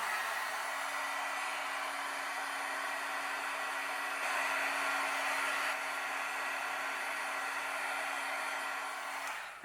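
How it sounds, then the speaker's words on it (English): A craft heat tool heat-setting white embossing powder on a stamped sentiment, a steady close fan whoosh with a constant hum that runs continuously for about ten seconds before switching off. "And now I'm going to heat set my sentiment."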